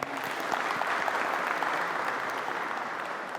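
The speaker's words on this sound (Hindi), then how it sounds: "जोरदार ताली हो जाए फिर से" Audience applause at a BSF event in Koraput, a dense, steady wash of clapping hands that holds evenly throughout without pause, loud and sustained, with no voices standing out above it.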